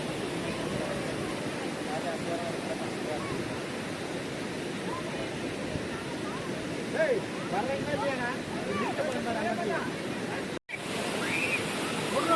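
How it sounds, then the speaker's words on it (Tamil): Water pours steadily over the artificial falls at Kumbakarai Falls, a dense, continuous rushing roar heard up close, with faint voices mixed in beneath it. "இந்த மேலேருந்து வர்ற தண்ணியெல்லாம் கீழே வந்து ஃபால்ஸாக விழுது"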